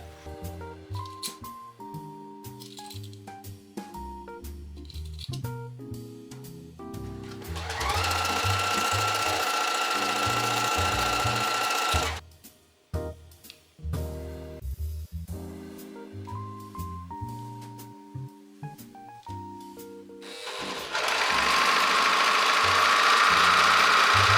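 A home sewing machine stitches a dress sleeve seam in several bursts: fast mechanical whirring runs with rhythmic needle knocking, separated by short pauses and quieter handling noises, close and loud.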